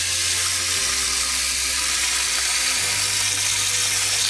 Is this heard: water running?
yes